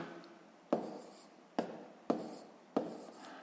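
A pen writes numbers on paper up close, making four short scratchy strokes, each with a sharp start and a quick fade, in a quiet room.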